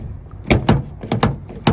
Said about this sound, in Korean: 이렇게 문을 열 때, 이 철판 안이 좀 비어있는 듯한 느낌